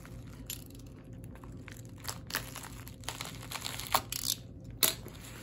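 A trade package being cut open: scattered crinkling and tearing of packaging material, soft at first and then sharper in the last seconds, close up with no talking.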